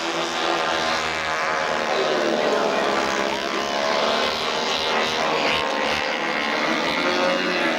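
A vintage light aircraft with a 30-horsepower engine flies at the 1988 Biggin Hill airshow, its steady, buzzing drone holding loud and continuous under a commentator's voice.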